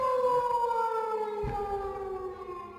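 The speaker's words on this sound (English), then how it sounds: "Siren?" A siren in the horror video game Perception wails in a long, slowly falling tone, loud and steady, with a dull thud partway through and no talking over it.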